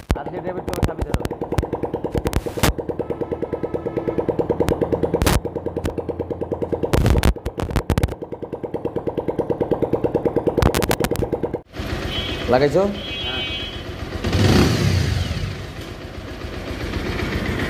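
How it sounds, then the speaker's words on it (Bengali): A Bajaj Pulsar motorcycle engine, freshly fitted with an original gasket and engine oil, idles with a rapid, steady pulsing thump and then revs, while people talk close by. "এখন আমরা অরিজিনাল ক্লাস গ্যাসকেট দিয়ে বাইকটা ইঞ্জিন অয়েল দিয়ে স্টার্ট করে আপনাদেরকে সাউন্ড শোনাবো"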